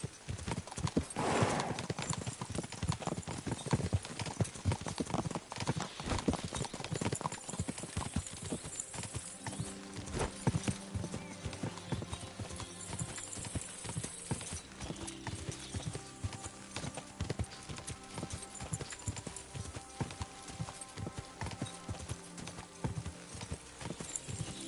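Horses gallop in a rapid clip-clop of many hooves, continuous and driving, with an occasional whinny over a busy background in the video game Kingdom Come: Deliverance II.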